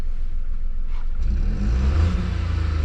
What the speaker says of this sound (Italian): e adesso funziona la macchina